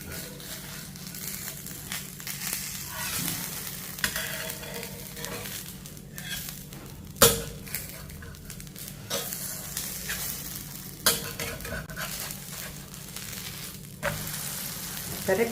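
Food frying in sesame oil in a pan after being flipped, a steady close sizzle running throughout, broken by occasional sharp clicks and scrapes of stirring.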